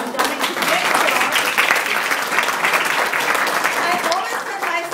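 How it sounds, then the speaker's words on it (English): Audience at a high school mentoring event applauding, a dense, steady burst of clapping from many hands, loud and sustained for several seconds. "So please applaud for yourself."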